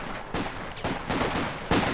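A machine gun in Company of Heroes 2 fires several short, sharp bursts at uneven intervals over a steady battlefield background, moderately loud and fairly close.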